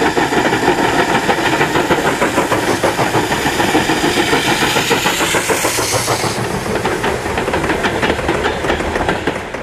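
Class P36 4-8-4 steam locomotive, Russia's most modern, hissing loudly and steadily at close range, with rhythmic mechanical chuffing beneath and a brief burst of brighter steam noise partway through.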